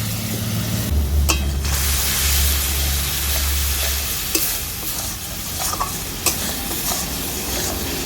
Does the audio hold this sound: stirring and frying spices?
yes